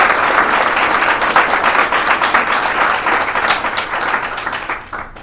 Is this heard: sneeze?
no